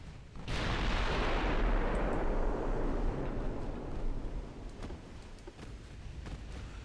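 Naval gunfire from 5-inch guns in the warship game Ultimate Admiral Dreadnoughts: a heavy salvo erupts into a long rolling blast that slowly fades, followed by scattered sharper distant shots.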